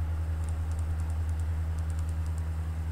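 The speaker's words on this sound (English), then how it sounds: "There is typing." Computer keyboard typing during an online game session, a run of light, faint key clicks over a loud steady electrical hum and background hiss.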